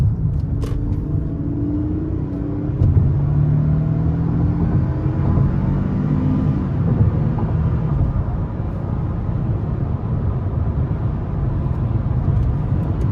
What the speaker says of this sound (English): Pretty impressive acceleration for an older, naturally aspirated V6 in my opinion